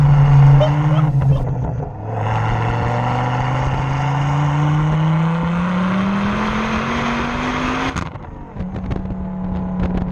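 Tuned 600 bhp Ford Focus ST pulling hard in third gear on turbo boost, a loud close engine note rising steadily, then a sharp shift break and a bang before the drone resumes, with someone talking over it.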